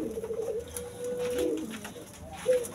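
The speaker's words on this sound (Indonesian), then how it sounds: "Ini puter putih, kemudian ada tekukurnya juga ya." Young white doves and spotted doves coo close by, giving a few soft, low, throaty coos that rise and fall, with faint background noise and no speech.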